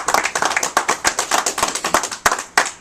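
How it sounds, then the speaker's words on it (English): Audience clapping at a boxing press conference at a club on Bleecker Street, New York, a short burst of brisk, close hand claps that fades toward the end. "Let's give a big round of applause for Elvier."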